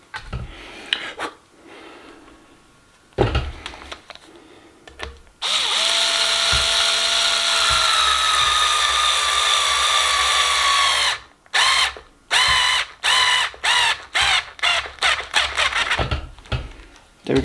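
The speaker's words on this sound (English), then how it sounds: "Right, let's get a screw in there." A power drill drives a screw into a bracket on a homemade power barrow, a loud steady whine held for several seconds, then a quick run of short stop-start bursts as the screw is driven home.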